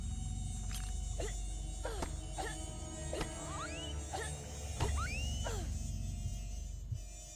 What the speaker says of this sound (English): Sound more like cicadas to me.